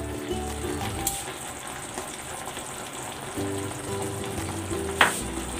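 Egg and set-aside onions fry in a pan with a steady, close sizzle and crackle, a couple of sharp taps rising above it, with no voices.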